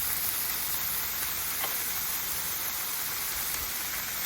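Canned corned beef sizzles on a Blackstone flat-top griddle outdoors at a state park, a constant close hiss and crackle with occasional faint taps and no talking.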